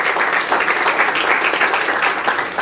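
Audience applause at a forum on combating the opioid crisis, a loud, close, fluttering mass of hand claps that keeps up evenly throughout with no speech over it.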